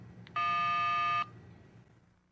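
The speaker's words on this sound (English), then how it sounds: "then press store, and enter the two-digit location number." A single steady electronic tone of roughly a second sounds from the keypad of a 1995 Motorola flip-style pocket cellular phone, clear against a quiet background with no one speaking.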